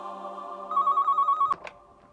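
A telephone rings, a steady electronic trill that pulses briefly, then cuts off with a click as the receiver is picked up, in a quiet room.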